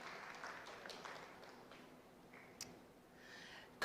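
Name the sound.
audience clapping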